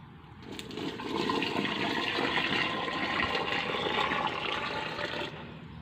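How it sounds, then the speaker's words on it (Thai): Water is poured into a repaired, once-cracked boot to test it, a close, steady gushing and splashing that swells after a second, runs continuously for about four seconds, then eases off. "เดี๋ยวผมเทน้ำลงครับ"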